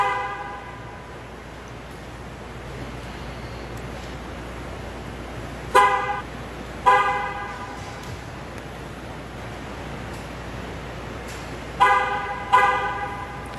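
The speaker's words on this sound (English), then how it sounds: "2 horn honks indicate a successful relearn" A GM car horn honks twice after a TPMS sensor relearn, then twice again later: short, sharp toots in pairs over a quiet garage background hum.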